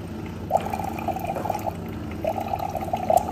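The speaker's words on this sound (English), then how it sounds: "pour out our water from DC Life Pro Max, instant production" Water pouring from a DC Life Pro Max water machine, a faint, soft trickling stream in two short bursts with a brief pause between them.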